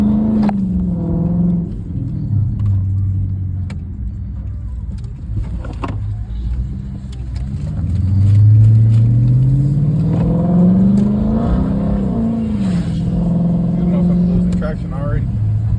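Chrysler 300C SRT engine revving and pulling hard with traction control off in sport mode, a loud close low rumble rising and falling in pitch through several accelerations, with someone talking over it.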